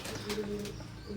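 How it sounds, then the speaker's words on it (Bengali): A pair of Teddy pigeons gives a soft, low cooing, faint and close, with a short murmuring phrase repeating across a second or so. "স্ক্রিনে এখন যে কবুতর জোড়া দেখতে পাচ্ছেন"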